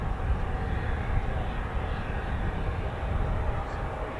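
A CV-22 Osprey tilt-rotor aircraft at RAF Mildenhall starts up its rotors, giving a loud continuous broadband engine roar heard from a distance, with faint talk underneath.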